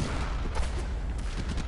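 Rifle gunfire in the video game Warframe rattles in a rapid, dense burst of shots, loud and continuous across the whole moment.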